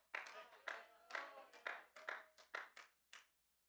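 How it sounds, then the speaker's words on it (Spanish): Sparse, uneven applause from a small church congregation: about nine separate hand claps spread over a few seconds, quiet and somewhat distant, with no voices over them. "esos pocos aplausos que dicen mucho"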